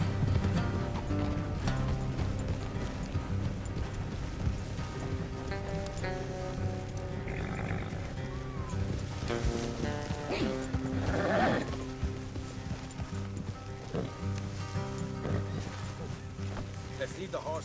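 Horses in the Red Dead Redemption 2 video game trot along with rhythmic hoof clops, harness creaks and an occasional whinny, under game music and spoken dialogue.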